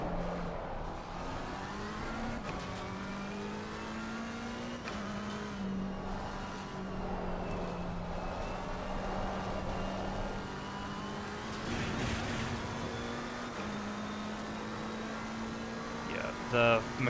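A McLaren race car engine in a racing video game holds a steady, droning tone that climbs and falls with gear changes, sounding continuous and moderately loud under a speaking voice.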